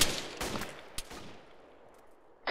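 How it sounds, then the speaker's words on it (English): Distant gunfire from a machine gun on a hill in the military shooter Arma 3, a few sharp bursts with a decaying echo and a final crack near the end, no talking. "A machine gun fire east on the hill."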